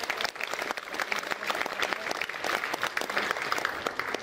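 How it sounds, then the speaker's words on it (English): Wedding guests applaud the bridesmaids during reception speeches, a loud continuous round of clapping from a full room that holds steady throughout. "Going to ask for a round of applause for our stunning bridesmaids and Flower Girl"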